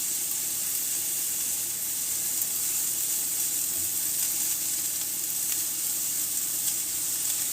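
Chopped scallions fry in a hot pan with a steady, close sizzle and hiss, a bright crackling texture that holds evenly throughout with no talking.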